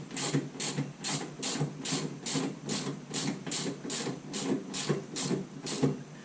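A ratchet wrench tightens a rear shock absorber's bottom bolt in a steady run of about a dozen rhythmic clicking strokes, close and clear, with no talking.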